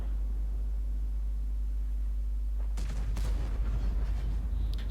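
Tank cannon fire in World of Tanks, a few booming shots close together after a steady low engine rumble, followed by scattered clanks and impacts.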